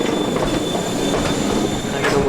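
A train rolls through a station in Brig, Switzerland, loud and close, with continuous rumbling wheels, metallic squeals and faint rhythmic clatter over the rails.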